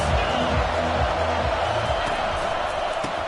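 A college football stadium crowd roars in a dense, continuous wash of noise, loud and sustained throughout.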